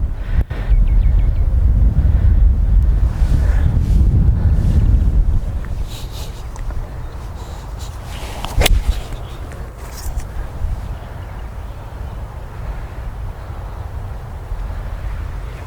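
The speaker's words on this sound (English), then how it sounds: "That wind is really strong." Strong wind gusting across a golf course, a loud rumbling buffet against the microphone for the first several seconds that then eases into a steadier, quieter rush, with a sharp click partway through.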